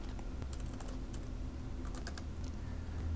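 Light typing on a computer keyboard: faint, sparse clicks scattered in short bursts over a steady low hum, fairly distant and with no talk.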